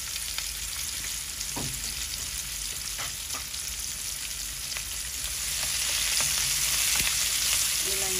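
Cardamom, cinnamon and ginger-garlic paste fry together in hot oil for bhuna khichuri, giving a steady close sizzle that swells a little louder near the end, with no talking.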